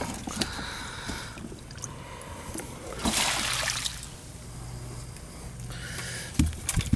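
Water leaking from a ceiling AC vent splashes and drips steadily, with a louder gush of pouring in the middle and wet spattering throughout.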